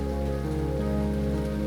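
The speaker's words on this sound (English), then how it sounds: "the weather often refuses to cooperate and shrouds the beauty in rain" Steady rain falls on a road along rolling Tasmanian hills, a constant close patter of drops with a low droning hum underneath throughout.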